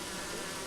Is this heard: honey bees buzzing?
yes